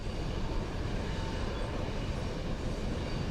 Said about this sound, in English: In Mombasa, this train is headed for the port.